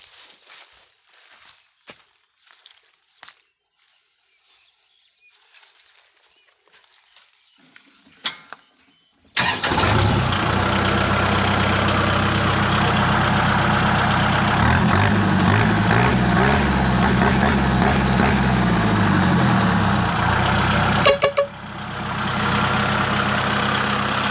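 Kubota M6240SU farm tractor with a 2.5-inch loud exhaust tip starts with an abrupt roar, then idles loudly and steadily with a deep throbbing rumble and a brief revving swell before settling. Quiet clicks and footsteps come before the start.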